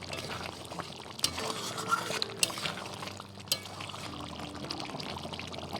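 Rose water poured into a simmering chicken chaap gravy in a pot, a soft liquid splash over a steady bubbling bed, with a few light clinks of utensils.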